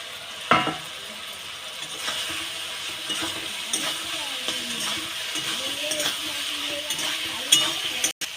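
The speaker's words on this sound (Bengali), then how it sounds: "এইবার আলুগুলো দিয়ে একটু ভালো করে কষিয়ে নেব।" Potatoes sautéed in oil with cooked-down spice masala for a rohu fish curry, giving a steady low sizzle with intermittent scraping and stirring of the spatula against the pan and an occasional clank.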